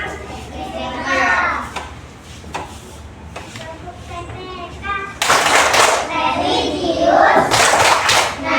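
Children in a classroom burst into a loud rhythmic clapping chant in unison, with bursts of clapping and chanted voices around the middle and end, after quieter child and teacher speech.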